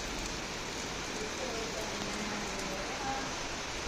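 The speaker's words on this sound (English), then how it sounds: "It has started raining." Steady rain falls outdoors, a dense, even hiss of drops that holds at the same moderate level throughout, with a faint voice in the background.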